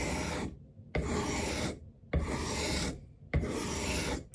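A knife blade scrapes across a sharpening stone, held at the wrong angle, in four long rasping strokes separated by short gaps. The strokes are close, loud and gritty, and no voice is heard.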